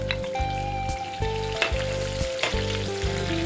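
Pork loin and chopped leek sauté in a pot, giving a continuous close crackling sizzle with periodic scraping stirs, alone without talk.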